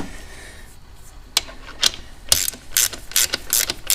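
A ratchet snugs up the rear axle on a Honda Grom motorcycle, a series of sharp clicking bursts that quicken into rapid ratcheting, close and alone.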